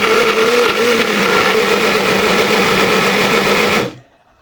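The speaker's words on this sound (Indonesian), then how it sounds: "Blender bumbu dan pastikan sudah benar-benar halus." A kitchen blender grinds spice paste with water for soto ayam, its motor whirring in a loud, steady drone before cutting off abruptly near the end.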